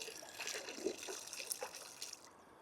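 Water trickles and drips as a soaked wash media is wrung out during a rinseless car wash, a few close, brief splashy bursts over about two seconds.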